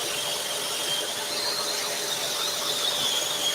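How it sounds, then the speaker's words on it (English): Scroll saw cutting wood for a workshop sign, a continuous high-pitched whine and buzz running steadily at close range throughout. "The scroll saw just makes this job really easy."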